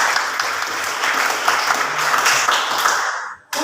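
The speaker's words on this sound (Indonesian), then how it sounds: "Ya, tepuk tangan." A classroom of students claps together after a maths answer, a brisk burst of applause that fills most of the moment and then cuts off abruptly.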